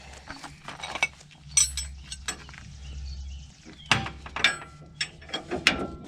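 Ratchet wrench tightening a 17 mm nut on a sway bar end link of a 2011 Nissan Titan Pro4X, giving several bursts of quick clicking and metallic clinks close up, with pauses between them.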